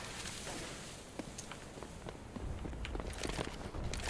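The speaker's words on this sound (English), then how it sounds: "able to hear those footsteps in tunnels as well" Footsteps in the tunnels of Counter-Strike during an IEM Katowice match: a series of light, irregular game steps that build toward the end, set in a dense, noisy game mix.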